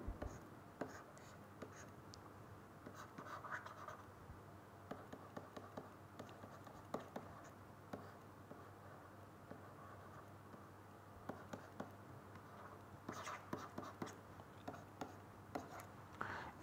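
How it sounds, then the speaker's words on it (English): Chalk taps and scrapes across a lecture-hall board in short, irregular strokes during a chemistry lecture on elimination reactions, soft and close with quiet room tone between marks. "I will just write down this substrate once again."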